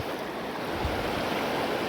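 A river in Madhya Pradesh, near the Narmada, flows with a steady broadband rush of water, close and continuous without breaks, with no voices over it.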